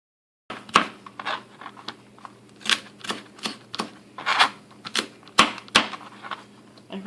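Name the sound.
knife cutting chili pepper on cutting board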